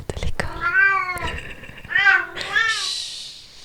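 A pet cat meows several times close by, drawn-out plaintive calls with short pauses between them, with faint rustling noise in the background.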